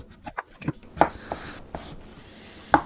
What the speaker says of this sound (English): So we're going to cube the squash there